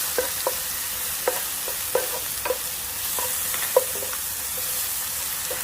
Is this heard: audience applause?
no